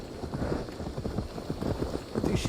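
Horse hooves clip-clopping in Assassin's Creed Valhalla, a continuous run of soft irregular hoof thuds under steady game ambience, with no talking.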